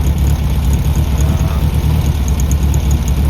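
A Volkswagen Beetle engine runs at a steady idle after its carburetor and ignition were adjusted, giving a continuous close, low rumble with no breaks and no talking.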